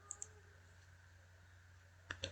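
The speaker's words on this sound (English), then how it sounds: "and then right click on it" Faint computer mouse clicks while working with files in Windows, a pair of light ticks near the start and another pair at the end over quiet room hum.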